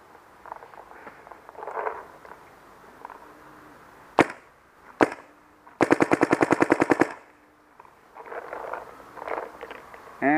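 A paintball marker fires through a Luxe tip barrel: two single sharp pops, then a rapid string of about a dozen shots, fairly close, with quiet background noise and faint sounds between.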